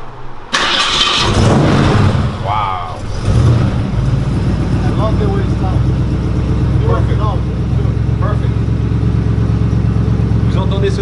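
A 1965 Ford Mustang convertible cranks over and fires, then settles into a loud, close, steady idle with a brief rev, while people talk over it.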